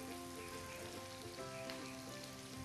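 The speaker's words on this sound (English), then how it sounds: "Meanwhile, I'm stirring my onions." Chopped onions sizzling in a hot pan while being stirred, a steady dense crackle at low level with no talking.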